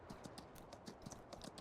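Horse hooves clip-clopping in the video game Farming Simulator 19, a quiet, quick irregular patter of light hoof taps with no talk.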